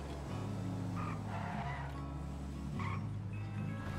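A car in the video game GTA 5 drives with a steady low engine drone, punctuated by a couple of short tyre skids, fairly quiet and without talk.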